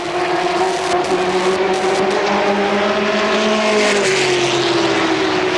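Stock cars racing at Motordrome Speedway in 1992, a loud, steady roar of several engines close by whose pitch shifts slightly as the cars run through the turns, with no talk.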